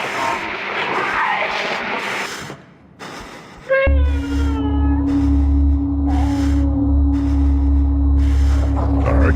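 A cat meows in the video game Conarium, drawn-out wavering cries over a steady low droning hum and eerie ambience, fairly loud and close.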